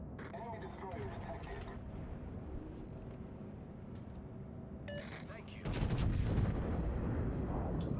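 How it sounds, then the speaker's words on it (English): Heavy warship main-battery salvo in the naval game World of Warships, a deep booming blast landing late after scattered distant gunfire and clatter, with a voice talking over parts of it. "That salvo was so good."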